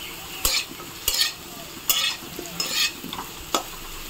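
Taro and potato pieces fry in a wok and are stirred, a soft background sizzle broken by repeated sharp scraping strokes of the spatula at irregular intervals.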